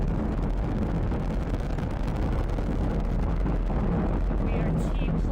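SpaceX Falcon 9 rocket launch with nine Merlin first-stage engines, a loud continuous roaring rumble heavy in the lows that persists without a break.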